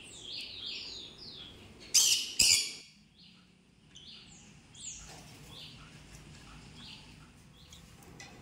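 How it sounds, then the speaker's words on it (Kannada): Small pet birds chirp and twitter repeatedly at close range in a cage, with two sudden loud bursts of flapping or squawking early on, then continued intermittent chirps. "ಹಕ್ಕಿಗಳ ಇಂಪಾದ ಧ್ವನಿಯನ್ನು ಕೇಳಲಿಕ್ಕೆ ಎಷ್ಟು ಚಂದ ಅಲ್ವಾ?"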